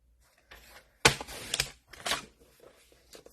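Card stock being cut for a Z fold card, a quick crisp slicing burst followed by a second shorter scrape, close and fairly quiet in an otherwise still room.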